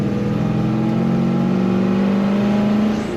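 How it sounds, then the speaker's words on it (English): A 1969 Chevrolet C10 pickup with an automatic transmission kicks down, its engine revving up in a steady, rising drone that holds loud and close for a few seconds before easing off. "That was the kickdown working as it should on the automatic transmission"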